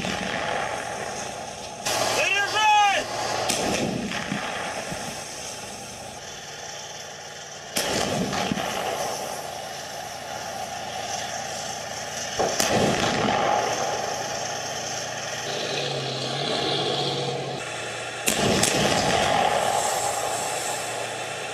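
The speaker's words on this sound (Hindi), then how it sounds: "रूसी टैंक पर यूक्रेन का हमला हुआ है।" Sharp blasts and bursts of gunfire from an attack on a Russian tank in the Russia–Ukraine war crack out at irregular intervals over a rumbling engine-like background, with a few sudden loud impacts.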